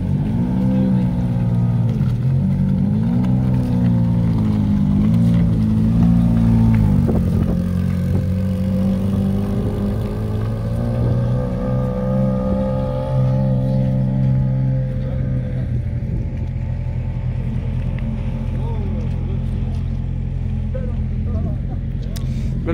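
Supercars pull away from a rally meet one after another, engines droning loud and close and revving up and down with shifting pitch. A voice speaks over the steady mechanical roar.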